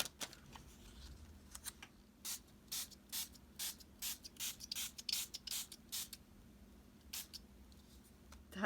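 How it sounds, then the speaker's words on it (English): A series of short, sharp spray bursts from a spray bottle, repeated in a quick irregular rhythm against a quiet background, then tapering off. "I can spray the back"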